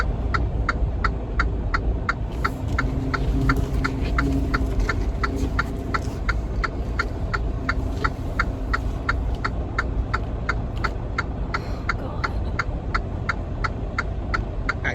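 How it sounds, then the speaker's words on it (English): A Freightliner truck's power steering gives a steady whine under the rumble of a running engine, joined by a rapid, regular ticking that runs the whole time at moderate loudness. "You can hear that Freightliner steering whine."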